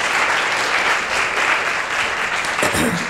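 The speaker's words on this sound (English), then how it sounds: "let's give another round of applause" Audience applause fills the room at a college colloquium, a dense, steady wash of clapping that stays loud and even for about three seconds with no talk over it.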